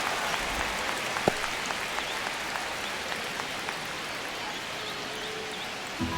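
A baseball stadium crowd at a Royals vs. Brewers game makes a continuous broad roar of cheering and clapping in the ninth inning of a one-run game, steady and far-spread with no voices standing out.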